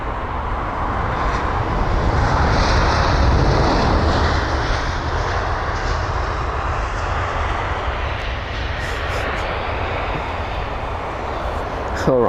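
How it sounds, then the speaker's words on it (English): An Emirates Airbus A380 in Expo livery departs Heathrow for Dubai, its four jet engines giving a loud, broad, sustained roar that swells early and then eases slightly as it climbs away. "So that's the Emirates A380, the Expo livery. heading back to Dubai"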